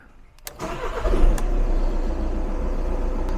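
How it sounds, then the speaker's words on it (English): An Audi car engine starting after a remap: a sharp click, then the starter cranks and the engine catches, revving up briefly before settling into a steady, close idle, with no talk. "I'll jump back in the car and we'll start it up and make sure it's all running correctly"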